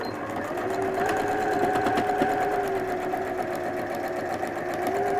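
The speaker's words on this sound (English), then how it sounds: "I have a new sewing machine" A sewing machine runs steadily, its needle stitching in a fast, even chatter, close up and alone.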